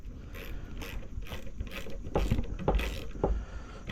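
A nut being tightened with a wrench during work on a Jazzy Elite power chair seat post, with a string of close, rhythmic ratcheting clicks and metal rattles that grow louder toward the end.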